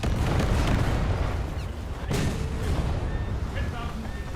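Enemy warship gunfire in a World of Warships naval battle, an American light cruiser shelling the player's ship, heard as a dense barrage of booming salvos with sharper blasts near two seconds over continuous battle rumble.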